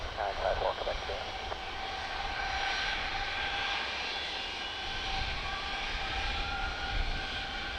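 An Airbus A320 engine drones at an airport as a steady, distant rumble with a faint whine, partly under radio-style talk.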